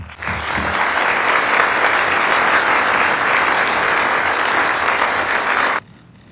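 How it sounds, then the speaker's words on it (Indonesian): Sustained applause from an audience at a political speech, steady and dense for several seconds before cutting off abruptly. "Tepuk tangan."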